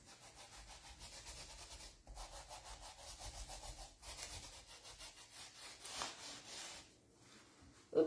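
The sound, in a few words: rubbing decoupage sheet with wet wipes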